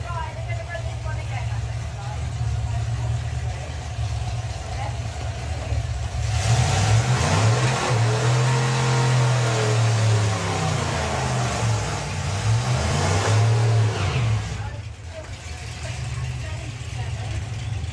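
A drag racing car at a drag strip revs its engine, the roar swelling from a lower rumble into loud rising and falling revs for several seconds before dropping back, with a commentator talking over it.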